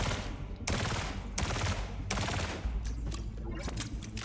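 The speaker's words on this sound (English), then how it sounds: "Tommy gun's pretty good, yep." Tommy gun fire in a video game, rapid sustained bursts in several long volleys, loud and close, with brief gaps between strings of shots.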